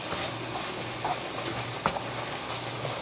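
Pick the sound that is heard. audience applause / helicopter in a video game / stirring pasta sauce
stirring pasta sauce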